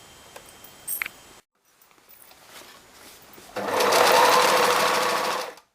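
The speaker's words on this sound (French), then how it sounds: "on passe à la couture avec un point zigzag assez serré mais pas trop non plus" A sewing machine runs a fairly tight zigzag stitch, attaching a knee patch onto a child's jeans, with a quiet stretch of faint handling before a loud, steady mechanical whirr for about two seconds that then stops.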